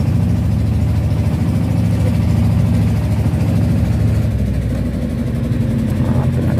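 A fishing boat engine on a night fishing platform runs steadily with a low, throbbing drone, loud and continuous throughout, with no talk over it.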